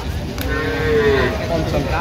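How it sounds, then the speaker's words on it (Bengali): A Shahiwal-breed bull or cow moos loudly and close at a cattle market in Sylhet, one long drawn-out low call over a busy crowd murmur. "বকনা বাচ্চা, ষাঁড় বকনা মিক্সারে কিনছেন মমিন ভাই।"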